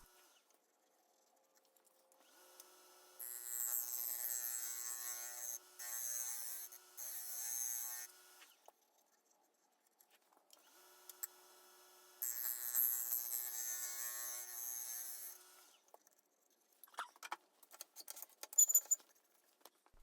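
A woodturning tool makes light passes inside a spinning walnut bowl, giving two bursts of hissing, scraping cuts several seconds long that are separated by quiet, followed by scattered faint taps and scrapes.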